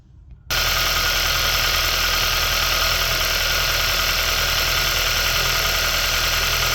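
A 2008-2015 Kia Soul engine starts up and idles after a crankshaft seal replacement, the harmonic balancer spinning with the belt off, giving a loud, steady, close-up mechanical hum and whir.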